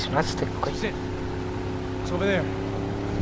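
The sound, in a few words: boat engine in video game Max Payne 3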